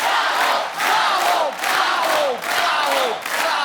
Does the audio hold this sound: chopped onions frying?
no